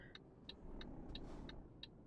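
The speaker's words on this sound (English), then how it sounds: "Cars are coming." Road traffic rumbles past in Euro Truck Simulator 2 while a modded truck waits, a low continuous car hum punctuated by a steady, regular ticking like a turn signal.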